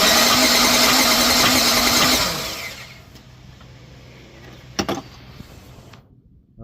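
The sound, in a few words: 1997 GMC Sierra 4.3L V6 engine cranking, hard to start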